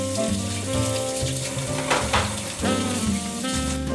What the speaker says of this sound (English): Scramble them eggs. Doing a scrambled situation here. Add our onions and peppers back in.